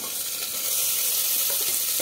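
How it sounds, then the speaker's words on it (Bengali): Papaya, carrot and green chilli fry with onion in a pan, making a steady, close, hissing sizzle throughout. "দিয়ে সবজিটা একটু হালকা করে ভেজে নেব"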